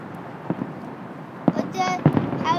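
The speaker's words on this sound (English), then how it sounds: "Those are crazy fireworks." Fireworks burst over Navy Pier, with several distant booms and pops scattered through the stretch and crackling that builds toward the end, all faint against background noise, while a voice and other chatter come through.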